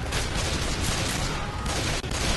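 Dense, continuous gunfire from Left 4 Dead 2 while fighting zombies, a loud sustained volley of rapid shots filling the whole stretch with only a brief dip near the end.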